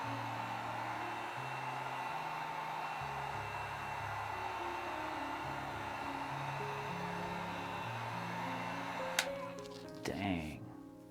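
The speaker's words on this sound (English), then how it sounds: "now I'm just going over it with a heat gun, helping any more cells that want to come forward" A heat gun blows over a wet acrylic pour painting with a steady, close, hissing rush of air, and its motor tone wavers under it before some brief clatter near the end.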